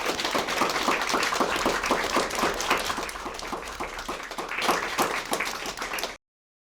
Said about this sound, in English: Should we give them a more applause?